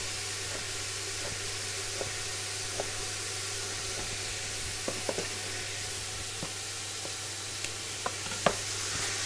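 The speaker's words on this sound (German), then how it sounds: "Die Zwiebeln fangen jetzt schön an zu braten." Onions frying in a pot as the base for goulash soup, a steady close sizzle with occasional small pops and crackles throughout, no talking.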